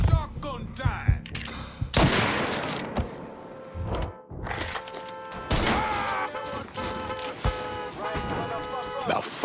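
Shotgun blasts in Mafia III: a rapid cluster of sharp, loud shots at the start, then more scattered heavy bangs amid ringing game sounds and music, with someone shouting over the gunfire.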